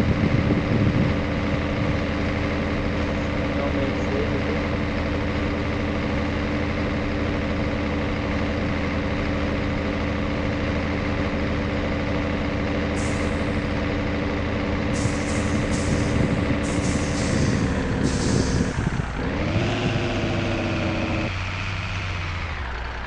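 A heavy truck engine drones loudly and continuously with the retarder engaged in World Truck Driving Simulator, then toward the end a series of high whining tones cut in and the engine note drops and shifts.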